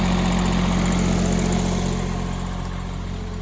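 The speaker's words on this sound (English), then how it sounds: "that generator fired right up and has been running flawlessly ever since" A small 3-cylinder diesel generator runs at a steady idle, giving a loud, close, even rumble with a low droning hum that holds throughout and eases off slightly toward the end, with no voices.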